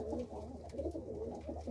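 Pigeons at a racing-pigeon loft coo steadily and close by, a low rolling murmur that runs throughout without pause.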